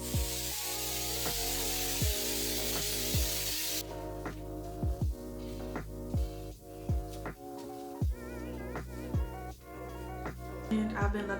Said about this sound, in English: And then we can spray.